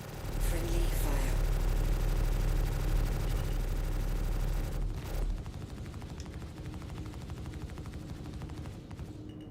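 Dense, loud gunfire from friendly ships in the space game Star Citizen rattles continuously for about five seconds, then drops to a quieter stream of lighter shots and mechanical hum.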